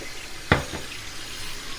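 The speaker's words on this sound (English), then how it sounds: "So I'm adding some water now to the peas" Water is poured into a pot of peas for Jamaican rice and peas, a short splashing burst close by that quickly fades into a low background.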